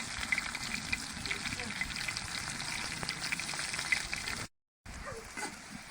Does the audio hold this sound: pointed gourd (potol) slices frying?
yes